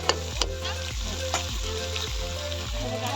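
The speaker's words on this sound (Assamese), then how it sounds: "আমি জ্বলা ভাজি হ'ব মাছৰ মাথাৰ লগত কচু" Fish heads and taro fry in a pan at an outdoor family picnic, a loud steady sizzle broken by regular stirring strokes roughly every half second, each with a scrape against the pan.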